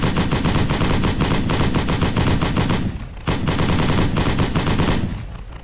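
Rapid machine gun fire from a stock sound effect in an Unreal Engine 4 drivable vehicle pack, a loud sustained burst with a brief break near the three-second mark before the firing resumes and tails off.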